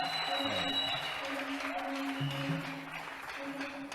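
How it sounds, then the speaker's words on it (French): A church congregation at a Thursday worship service claps in a sustained round of applause, mixed with voices and tonal music throughout. "Acclamons très fort le Seigneur."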